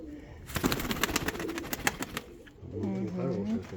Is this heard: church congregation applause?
no